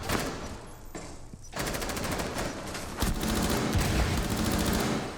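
Sustained automatic gunfire in a video game, loud, continuous rapid bursts with steady repeating shots and only a brief dip near the start.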